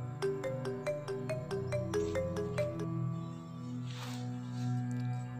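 A phone ringtone plays a rapid series of bright electronic notes, then fades into a soft hiss and low hum.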